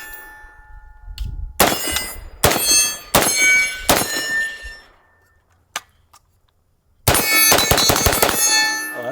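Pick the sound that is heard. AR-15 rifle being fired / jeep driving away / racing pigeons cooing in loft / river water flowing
AR-15 rifle being fired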